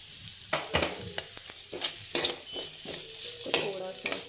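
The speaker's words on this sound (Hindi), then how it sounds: "थोड़ा सा मिक्स कर लेंगे, थोड़ा देर ऐसे चलाएंगे।" A spoon stirs chicken soup in a pot with scattered scraping and clinking taps, over a soft sizzle from the cooking. The sound is close and fairly quiet, with no speech.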